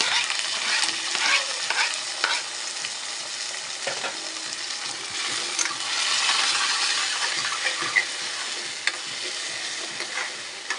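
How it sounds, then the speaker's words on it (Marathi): Chopped tomato goes into onion already fried in a pan, setting off a close, bright sizzle with stirring scrapes and occasional small metallic clinks of the spoon throughout. "कांदा फ्राय झालेला आहे टोमॅटो टाकून घेऊया"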